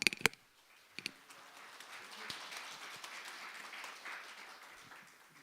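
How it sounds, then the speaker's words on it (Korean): A church congregation at a Sunday worship service claps for arriving missionaries, opening with a few sharp close claps, then settling into softer, sustained applause that gradually thins toward the end. "이렇게 나오실 때 크게 한번 박수로 초청해 주십시오."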